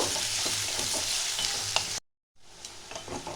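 Chopped onion fries lightly in a pan with a busy sizzle and stirring scrapes. The sound cuts out briefly to silence, then the frying resumes a little quieter.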